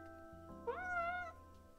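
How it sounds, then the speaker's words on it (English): A cat meows once in the video game Calico, a clear, drawn-out mid-pitched call lasting about half a second, with steady game music and ambience in the background. "Oh, there's the kitty."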